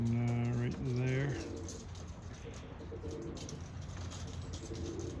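Birmingham roller pigeons cooing in a loft, a few low steady coos up close at the start, then softer background calls over faint ambient noise.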